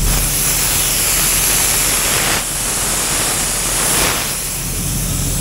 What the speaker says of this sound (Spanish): Ese chamber me está perdiendo aire.